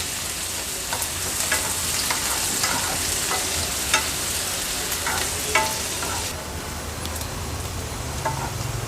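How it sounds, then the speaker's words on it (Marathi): A medium onion and three green chillies fry in oil for a spicy suran (elephant yam) curry, a continuous close sizzle broken by frequent scraping stirs of a spatula against the pan. "कांदा आणि हिरवी मिरची देखील तेलावर छान आपल्याला शिजवून घ्यायची आहे"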